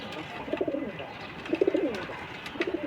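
Giribaz pigeons cooing nearby, three short bursts of soft throaty coos spaced about a second apart over a quiet background.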